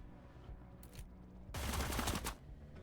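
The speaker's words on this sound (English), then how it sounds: "You're hearing more gunfire." A brief rattling burst of rapid gunfire in the video game Cyber Knights: Flashpoint, moderately loud, over a low steady background hum.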